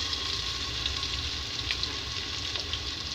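Onions frying in a pan as ginger garlic paste goes in, a steady, close sizzle holding even throughout with faint scraping ticks, no voices.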